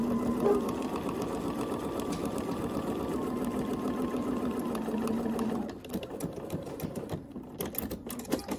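A Bernina sewing machine fitted with the #71 foot stitches binding onto a quilt with a steady, loud motor whir for most of the stretch, then stops, leaving softer handling clicks and rustles.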